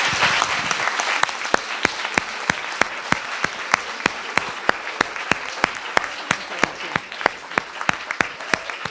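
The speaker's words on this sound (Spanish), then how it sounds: "nos vamos a dar un aplauso para la ponente y para todos los que estamos aquí." An audience at a Spanish linguistics lecture applauds, a brief wash of clapping settling into loud, evenly spaced rhythmic claps beating in unison for several seconds.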